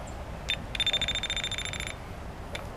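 A small electrical tester near a pool pump gives a short burst of rapid, pulsing beeps lasting about a second, set against steady background noise from the motor.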